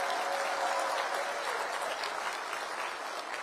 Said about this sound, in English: Let's give a big round of applause to our police.